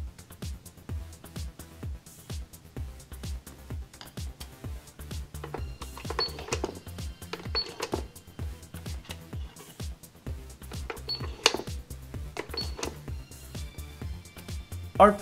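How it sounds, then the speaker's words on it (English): A toy cash register clicks and rattles in quick mechanical bursts, with a few sharp beeps and bright pings, running steadily and close up through the whole stretch with no talk over it. "This cash register also takes credit cards."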